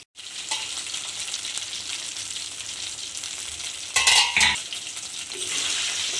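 Brinjal fries in a generous amount of oil for kuzhambu, giving a loud, steady sizzle close up that swells briefly as a utensil clatters and stirs midway, then settles back into continuous frying.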